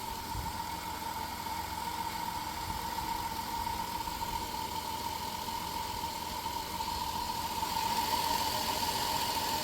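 2002 Chrysler Town & Country LXi minivan engine idling with no coolant, a steady mid-pitched hum and whine under a constant low rumble, close and unbroken, no speech.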